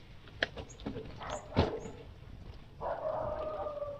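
A dog barks a few sharp, moderately distant times outdoors in Maragondon, Cavite, followed by a steady tonal hum.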